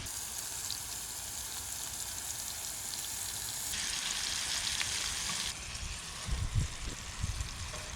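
Wild oyster mushrooms fry in a pan with a steady, bright sizzle that holds throughout and shifts in tone partway, with a few soft clunks of handling near the end.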